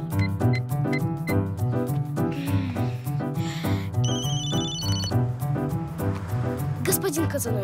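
A telephone rings with a repeated electronic tone over steady background music, the rings standing out clearly in short bursts.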